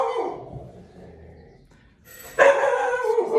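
A dog barks loudly and close by, with a quieter stretch of yips and whimpers at the start before a burst of sharp barks near the end; no one speaks.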